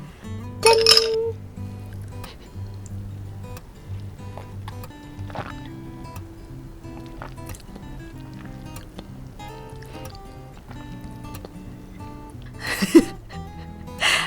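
Drinking glasses clink together in a toast over an apple-flavored alcoholic drink, one bright, close ring near the start, then a quieter stretch with faint clatter and another sharp knock near the end.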